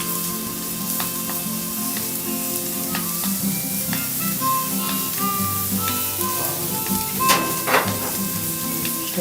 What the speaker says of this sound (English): Next, we have these baked potatoes heating up.